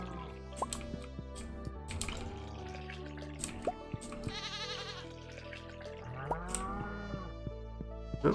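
Goats bleating in the farming game Stardew Valley, several short bleats scattered among dripping liquid and chiming game effects, close and clear with no talking.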